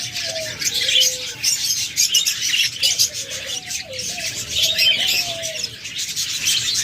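Cage birds such as cockatiels, budgerigars and lovebirds chirp and tweet continuously at a bird market, with short whistled calls rising over a dense chatter of many birds.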